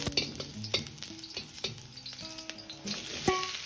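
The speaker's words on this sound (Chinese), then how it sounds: "油热后下入姜片" Ginger slices fry in a small amount of hot scallion oil in a dry-heated pan: a light, continuous sizzle with scattered metallic taps and scrapes as they are stirred, close up and without talk.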